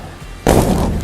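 A lithium-ion pouch battery dropped into molten aluminum bursts with a sudden loud, close blast, followed by a sustained crackling, fizzing roar like a firework.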